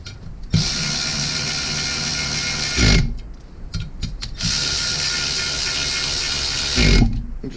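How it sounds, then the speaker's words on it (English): Ratchet wrench snugging bolts on junkyard Mustang cylinder heads, giving two long bursts of rapid, close clicking separated by a short pause, with no talk. "So we're gonna quickly tighten up these."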